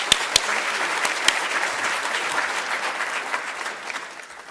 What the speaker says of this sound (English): let's give her a hearty warm applause